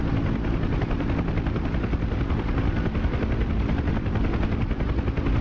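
UH-1 Huey helicopter in the DCS flight simulator, a steady, loud rotor chop and turbine whine continuing without a break at close range, with no speech.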